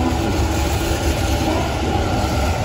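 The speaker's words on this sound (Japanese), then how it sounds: "この大和西大寺行き区間準急にね、" A Kintetsu section semi-express train bound for Yamato-Saidaiji gives off a loud, continuous low rumble and whine of running rail wheels and motors, steady throughout with no talking.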